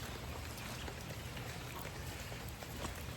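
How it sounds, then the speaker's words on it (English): Steady rain falls outdoors in wet, flooded country, a dense even patter of drops on surfaces that stays constant throughout with no voices. "Raindrops are falling on my head"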